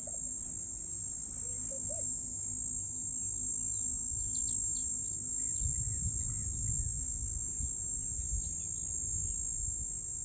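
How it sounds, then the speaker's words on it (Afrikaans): Cicadas buzz and trill in a continuous high-pitched summer drone outdoors on a game farm in Dinokeng, South Africa, with faint bird chirps and low rumbling in the background. "Nou luister ons vir die sonbesies."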